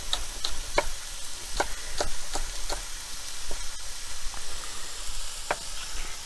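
Tofu scramble frying in a pan, a continuous close sizzle punctuated by repeated sharp scraping clicks of a utensil, no voices.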